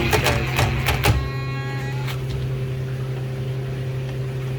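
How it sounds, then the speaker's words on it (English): Screws being driven into a Dixie Narco Bevmax vending machine, their threads stripping: a brief cluster of sharp clicks and ratcheting, then a steady low mechanical hum that carries on alone. "Now I'm just screwing the rest of these guys"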